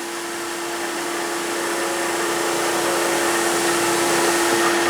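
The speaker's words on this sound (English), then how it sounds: "I'll use the skew to do it this time. Steady the workpiece with your hand." A skew chisel cuts a spinning wooden workpiece on a wood lathe, making a steady, loud whirring hiss with a constant motor hum beneath it. The sound runs unbroken and grows slightly louder toward the end.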